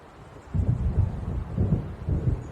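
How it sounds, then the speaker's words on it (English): Distant thunder of an approaching storm in the video game Alan Wake, a series of low, heavy rumbling rolls that start after a brief quiet and pulse in waves, with no speech. "It seems there's a storm coming."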